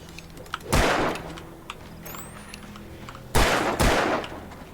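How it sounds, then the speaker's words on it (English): A flare gun fires in the video game Alan Wake: two loud, broad whooshing bursts, the first alone and the second a quick double blast that trails into a hiss. "This is the flare gun."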